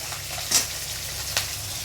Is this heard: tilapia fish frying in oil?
yes